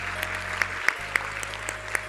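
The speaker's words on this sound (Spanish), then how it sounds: "Un aplauso aquí para Chris." Audience applause greets a speaker called to the stage at a science and ideas congress, a steady wash of clapping with a few sharper claps standing out, continuing for a couple of seconds.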